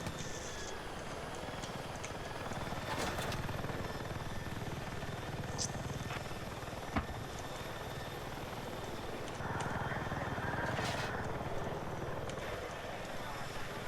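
An attack helicopter in Battlefield 6, a steady rotor and engine drone holding throughout with swells in intensity, occasional gunfire and game effects, and a player talking over it.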